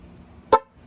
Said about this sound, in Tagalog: Ibig sabihin na nakasetup na yung ating busina bago tayo pupunta sa relay